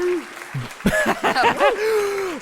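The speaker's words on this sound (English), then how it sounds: "There's polite applause through the room, a couple of hoots" Polite applause in an auction room just after a lot sells, mixed with a couple of bright vocal hoots and whoops, all packed into a short, fairly close burst.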